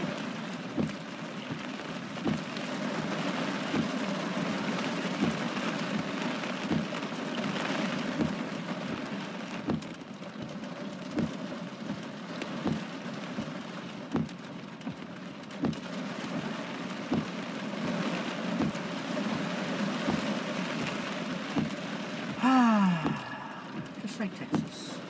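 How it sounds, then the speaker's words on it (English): Heavy rain pounds on a car roof during a severe thunderstorm with gusting wind near mountains in Los Angeles, a constant dense patter under excited talk from people inside the vehicle. "Now this is a severe storm, baby. Wow, look at that wind."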